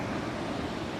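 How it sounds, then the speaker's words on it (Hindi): Icy glacier meltwater rushes down a mountain stream along the Baltal route of the Amarnath Yatra, a steady, full roar of flowing water with no pauses. "ये ऊपर ग्लेशियर से पिघल के सीधा पानी नीचे आ रहा है"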